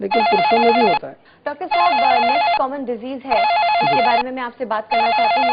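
A telephone rings in repeated electronic trill bursts through a health talk show studio, heard over a woman and a doctor talking as a call-in caller is taken.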